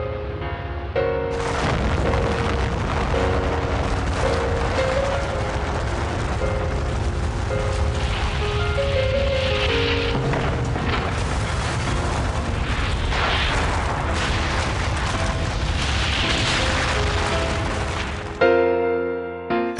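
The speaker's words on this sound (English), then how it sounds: "the detonation of a second bomb named the Fat Man over Nagasaki" Fat Man atomic bomb detonating over Nagasaki: a loud, deep, sustained rumbling roar that fills nearly the whole stretch, layered with tonal, music-like lines, before cutting off abruptly near the end.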